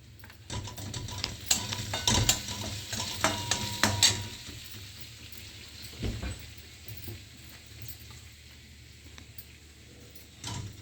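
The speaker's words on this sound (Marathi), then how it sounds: "कढीपत्ता टाकत आहे." Curry leaves dropped into hot oil crackle and sizzle as they are stirred in a pan for a brinjal bharit. A burst of spattering settles into a quieter fry with occasional utensil scrapes, close, with no talk.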